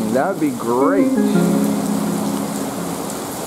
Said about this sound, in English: It's raining, it's pouring. Heavy rain.